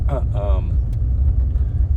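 Trucks pass on a rural road during deer season, a heavy, steady low rumble throughout the clip. A person speaks briefly at the start.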